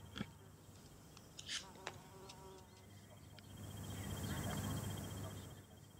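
Mason bees buzz close by, a droning hum that swells louder toward the end, with a few faint chirps and ticks scattered over it.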